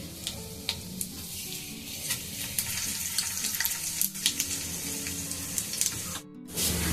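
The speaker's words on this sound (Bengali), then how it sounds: "এখানে দিয়েছি সাজিরা, 3টে তেজপাতা, একটা বড় এলাচ, 4টে ছোট এলাচ, লবঙ্গ, দারচিনি, এগুলোকে সব আমি দিয়ে দেব তেলের মধ্যে।" Whole spices, cumin, three bay leaves, black and green cardamom, cloves and cinnamon, sizzling in hot oil for fried rice, a continuous crackle with scattered sharp pops and stirring clatter, briefly cut off near the end.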